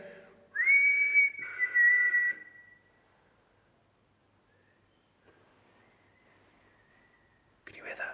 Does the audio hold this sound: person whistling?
yes